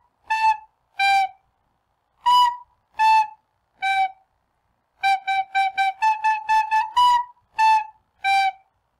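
A recorder plays the simple Hot Cross Buns melody: three clean, separated whistly notes twice, a quick run of eight short repeated notes, then the three-note phrase again, close and alone.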